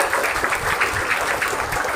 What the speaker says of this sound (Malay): beri tepukan sikit untuk kita semua ya